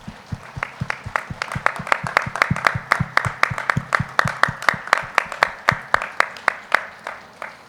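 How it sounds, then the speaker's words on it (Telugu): Loud audience applause at a meditation event on World Meditation Day, with dense rhythmic clapping that keeps a steady beat throughout, sounding close and full with no voices over it. "ఒకసారి గట్టిగా చప్పట్లు కొట్టుకుందాం."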